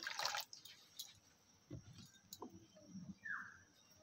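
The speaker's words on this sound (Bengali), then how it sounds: "এরপর আবার একটু জল দিয়ে দিচ্ছি।" Water poured over rinsed sago pearls in a bowl, heard as faint, close splashes and trickles in short bursts against a quiet background.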